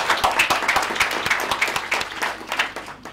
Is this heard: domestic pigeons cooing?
no